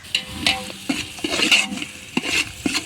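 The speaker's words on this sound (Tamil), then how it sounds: "இப்போ வந்து வெங்காயம், தக்காளி எல்லாமே நல்லா வதங்கிடுச்சு." Onions and tomatoes being stirred and fried in a pan for dum biryani: a spoon scraping and clanking against the pan over a soft sizzle, in irregular close strokes.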